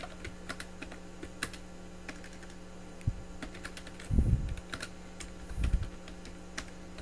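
Someone types on a computer keyboard in a quiet room, scattered soft key clicks with a couple of heavier thumps, likely the space or enter key, over a faint steady hum; no speech.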